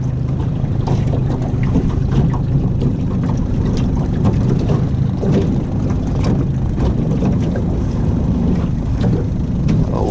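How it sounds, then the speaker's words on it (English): Wind buffets the microphone outdoors on the water during limb-line catfish fishing, making a continuous, loud, low rumbling roar that never lets up, with no speech. "Oh, this wind."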